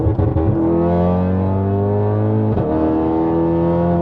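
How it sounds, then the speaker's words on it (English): A Stage 3 tuned Cupra Formentor engine revs hard in Cupra mode and climbs steadily in pitch as it accelerates, loud and close, with a brief dip partway through before pulling on. "So a lovely bit of acceleration there."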